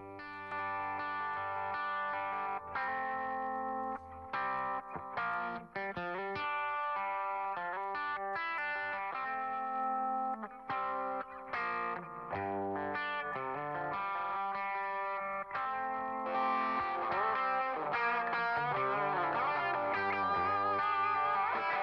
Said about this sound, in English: Let's take a listen to this plugin on a rhythm guitar I have here.